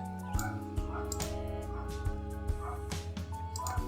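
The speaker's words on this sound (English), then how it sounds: "Apologies if you hear barking" A dog barks and yips a few times in quick bursts, faint and somewhat distant, behind steady looping game music.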